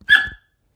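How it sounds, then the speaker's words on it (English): A single short, sharp bark from a miniature Australian Shepherd dog indoors, close and loud, lasting under half a second before silence. "sorry about that, that's my dog."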